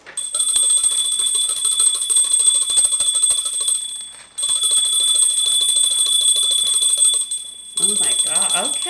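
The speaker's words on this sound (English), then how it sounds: "You gotta ring the bell, boo." A bell rung during a live jewelry sale show gives off bright, unbroken ringing in two long bursts with a short break between them, and a voice comes in at the end.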